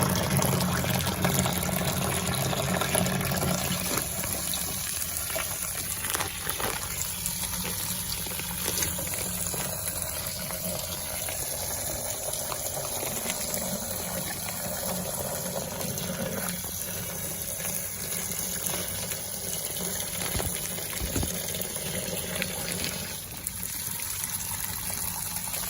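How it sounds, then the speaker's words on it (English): Hot water mixed with Fernox cleaner pouring and trickling into a container while a shower head is cleaned, a steady gushing fill that runs continuously at moderate volume. "So we're going to add hot water."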